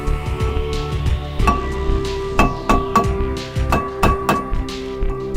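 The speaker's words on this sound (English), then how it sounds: "Use a rubber hammer in order to loosen the disc from the hub." A rubber hammer strikes a brake disc on a Nissan Leaf front hub to loosen it, giving about a dozen close, dull blows in an uneven rhythm over a low background hum.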